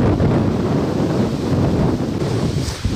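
Strong wind buffets the microphone outdoors during a ferreting and goshawk hunting trip, a steady loud roar with gusty surges throughout and no speech.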